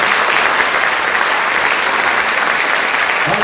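Dense, steady applause from an audience fills the space, loud and continuous with no pauses and no voices on top.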